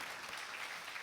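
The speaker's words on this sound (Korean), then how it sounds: "예, 한번 큰 박수로." A congregation at a Korean church service applauds, a brief, quiet wash of many hands clapping together, heard from a distance with no voices over it.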